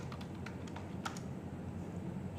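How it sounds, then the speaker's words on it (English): Someone types on a computer keyboard during an online typing test, a faint run of irregular, quick key clicks over a quiet room hum, with no voices. "now I'm just going to type"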